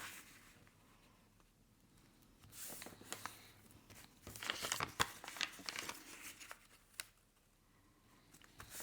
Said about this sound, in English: And cut it, and then we're going to fold those in half.